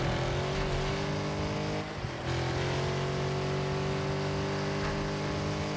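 A car in the Car Parking Multiplayer game drives along train tracks, producing a steady, droning engine tone with a constant rumbling texture that barely dips throughout.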